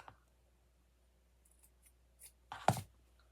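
Scissors trim a ribbon bow, giving a few faint, soft snips in a quiet room and then a sharper, louder close cut near the end.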